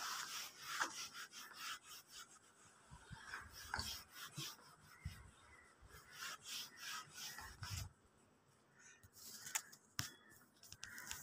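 A board eraser or duster rubs chalk writing off a classroom board during a maths lesson, making quiet rapid back-and-forth scrubbing strokes that come in uneven bursts, with brief pauses.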